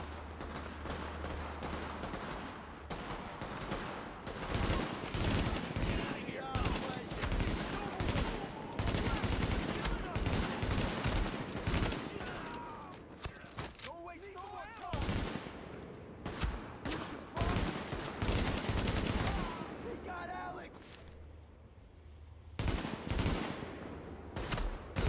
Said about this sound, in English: Incoming hostiles. Warning, supplies taking fire.